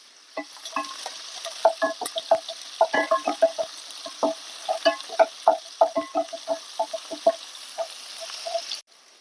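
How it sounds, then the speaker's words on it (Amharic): Onions fry in hot oil in a pot while being stirred, with rhythmic scraping strokes over a light, continuous sizzle. "ዘይታችን ልክ ሲግል ነው ማለት ነው ሽንኩርት የምናደርገው"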